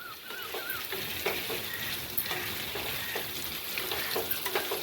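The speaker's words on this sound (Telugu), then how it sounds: "పచ్చి వాసన రాకుండా కొద్దిగా ఎర్రగా ఏగాలండి" Food frying in a pan until it turns reddish: a steady, close sizzle and crackle that goes on throughout, with light scraping of stirring mixed in.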